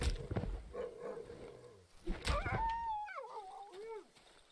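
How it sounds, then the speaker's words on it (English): In the video game Darkwood, dogs growl and snarl close by, with sharp bursts near the start and middle, then rising and falling howling whines trail off toward the end. "Frickin' dogs."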